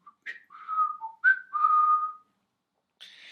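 Someone whistles a short, wandering tune alone, a few clear notes rising and falling with brief pauses between phrases.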